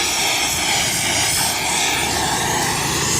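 A gas welding torch welds the side stand onto the chassis frame of a Hero Honda Passion motorbike. It gives a loud, steady roaring hiss that does not stop.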